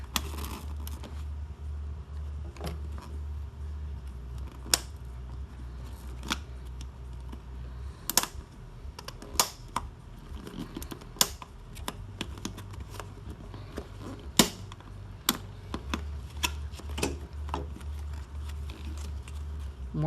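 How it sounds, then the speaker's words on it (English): Sharp snaps and clicks from staples being pried and pulled off the upholstery of a 2006 Dodge Ram 1500 center console, irregular and close, over a steady low hum. "And it's stapled on there, so you have to pull it off."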